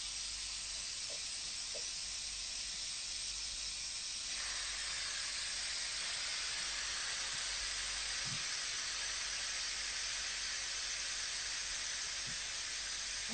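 Steam hisses continuously as pressure is released from pressure cookers used to cook chickpeas with monkfish and clams, a loud, steady broadband rush that holds for the whole stretch with faint clicks underneath.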